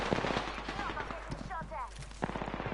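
Rapid bursts of gunfire from the video game Apex Legends during a ranked match, repeated shots crackling over a player's voice chatter throughout.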